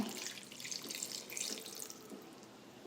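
Kitchen tap running into a sink while batter is being mixed, a soft, steady hiss of flowing water with faint splashing variations, fairly quiet and with no voices.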